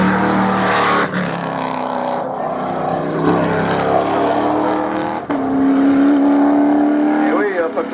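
Race car at a regional hill climb in Hébécrevon accelerating hard past nearby, with a loud rising engine roar and gear shifts, commentators talking over it.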